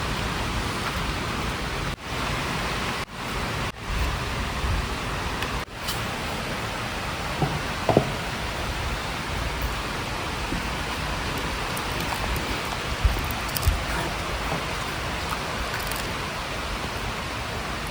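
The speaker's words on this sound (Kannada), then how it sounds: "ಹೊರಗೆ ಬೇರೆ ಮಳೆ ಬರ್ತಾ ಇದೆ." Steady rain pours outside a village home kitchen, a continuous even hiss of drops with no talk, broken only by a few faint knocks and small clicks.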